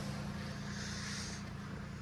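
A tractor engine idles while warming up in a village, a low, steady rumble that stays faint and even throughout with no voices over it.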